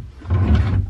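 A hotel room drawer slides open or shut with a short wooden rumble and scrape, close by and alone, under a second long.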